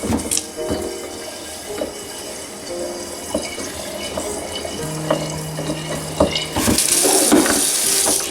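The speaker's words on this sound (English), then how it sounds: "little water, rinse this out." Water runs from a tap into a glass carboy being rinsed after mead making, a steady splashing stream with some faint clinks and a brief tonal ring partway through, no voices.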